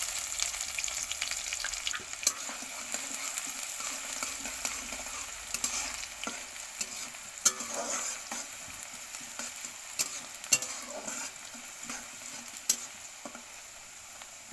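Onions frying in hot oil with cumin seeds and green chili, a steady close sizzle with scattered crackles and sharp pops throughout, no voices.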